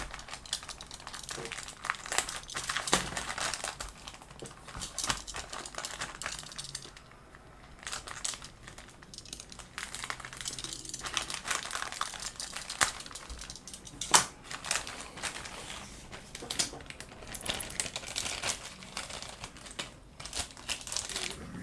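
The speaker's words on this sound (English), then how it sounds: "They really went to town with the plastic bags." Plastic bags holding parts from a 1965 Ford Falcon Ranchero pickup model kit are handled and torn open, giving crisp, irregular crinkling and rustling bursts up close, loudest in clusters, with no one talking.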